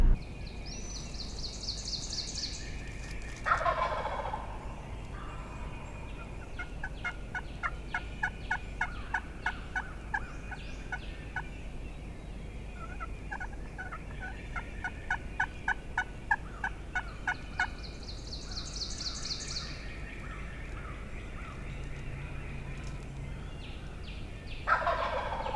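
A wild turkey gobbles several times in open woods, loud rattling bursts spaced across the stretch, with fainter bird calls and chirps between them and no voices.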